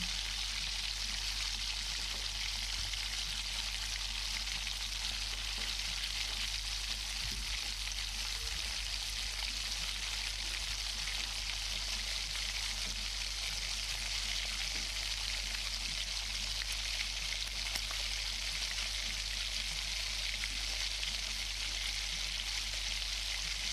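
Ginger-garlic-chili paste and asafoetida fry in hot oil, giving a dense, unbroken crackling sizzle that stays loud and even throughout, with only faint scattered pops and no voices.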